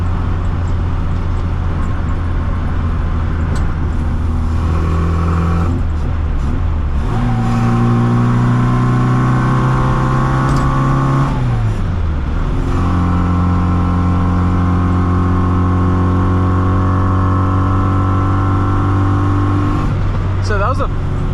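A 1965 Austin Mini Cooper S engine pulls hard through the gears on a hot drive with windows closed, loud and close, its rising whine repeatedly climbing, dropping at shifts and climbing again, with road noise underneath.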